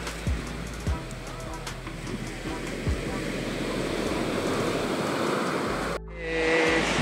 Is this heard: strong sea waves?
yes